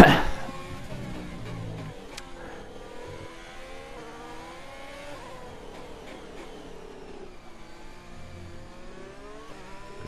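A race car engine in a racing video game revs and short-shifts through a stadium section, with rising and falling engine pitch over several gear changes, a sharp burst at the start, then a steady drone.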